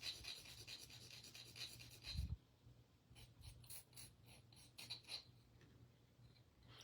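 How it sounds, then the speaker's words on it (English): A knife sharpener files the ends of earring wires, giving faint, repeated dry rasping strokes, steadier in the first couple of seconds and then more scattered, with no voices. "it's a sharpener, but it works great for smoothing out those ends"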